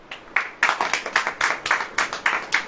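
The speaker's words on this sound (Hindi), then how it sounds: "ताली बजाइए भाई" A congregation at a Hindi church service claps in a quick, uneven burst of hand claps, fairly close and moderately loud, lasting a few seconds with no talk.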